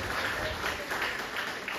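A church congregation at an evening worship service claps together in a steady rhythmic beat, full and close, while a preacher keeps speaking over the applause.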